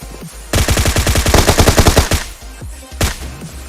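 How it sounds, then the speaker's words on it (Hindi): Rapid automatic gunfire in the PUBG video game, a loud sustained burst of about twenty closely spaced shots followed by a few scattered single shots and another sharp report near the end. "अब वो मेरी तरफ आता है, मैं उस पर फायर करता हूँ।"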